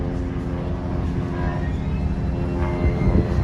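A seaplane flying over Lake Como, a low continuous engine drone heard from some distance, blended with the rumbling hum of a ferry underway.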